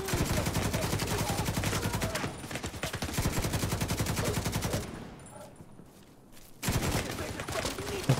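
Rapid automatic gunfire rattles in The Division 2 video game, dense bursts that run steadily, drop away briefly, then resume loud and close.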